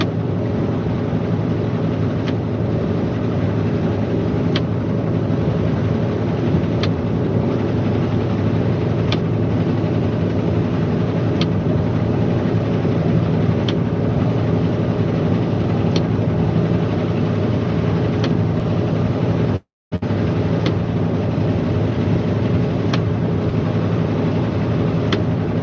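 Steady, loud diesel drone of a Cummins X15 engine in an International LT single axle day cab truck, heard from inside the cab as a continuous low rumble with a brief cut near the end.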